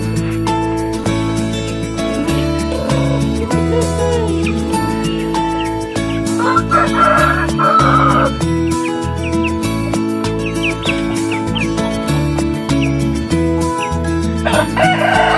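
Native chickens crow repeatedly and cluck nearby, loud and overlapping with other birdsong chirping throughout.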